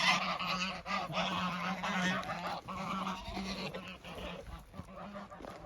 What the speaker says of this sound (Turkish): Kazların sesinden uzaklaşak.